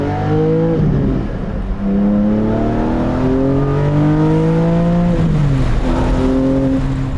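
A Porsche 718 Spyder fitted with an Akrapovic exhaust, driven with the windows down: the engine revs up through repeated climbing sweeps with gear changes between them, loud and close under light wind noise.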